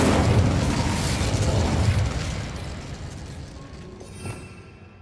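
Spell explosions burst in the Hogwarts Legacy video game, a loud booming blast and rumbling roar for about two seconds that fades out, with a smaller pop near the end.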